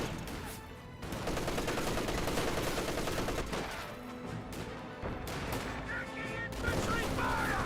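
Sustained MG34 machine gun fire in the Company of Heroes 2 battlefield, dense rapid bursts mixed with other gunfire and explosions, loud and continuous throughout with no talk.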